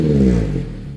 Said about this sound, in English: it also has this Borla exhaust system, which sounds like this.